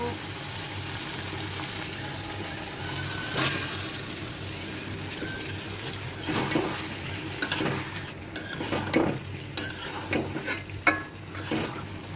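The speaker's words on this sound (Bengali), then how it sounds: "আলুর সাথে মাছগুলো কষিয়ে নেব।" Fish and potatoes stir-fried in a pan make a low steady sizzle, and clattering spatula scrapes and knocks pick up in the second half.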